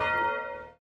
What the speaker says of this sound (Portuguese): Toque o sino, sacristão.